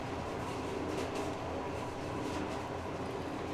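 A moving train rolls on in Metro Exodus, a steady, dense rumble of wheels and carriage noise that holds at an even level throughout, close and continuous with no voices.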